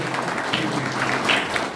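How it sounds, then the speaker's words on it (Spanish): Crowd applause for a group honoured as warriors, a continuous, moderately faint wash of clapping with no pauses across the short stretch. "un aplauso grande, grande, grande a todos los guerreros"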